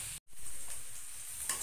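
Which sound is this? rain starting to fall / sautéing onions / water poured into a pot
sautéing onions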